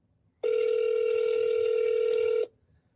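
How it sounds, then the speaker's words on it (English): A single sustained electronic voicemail beep on a phone call, clear and steady for about two seconds, in an otherwise quiet line. "Please leave your name and phone number after the beep."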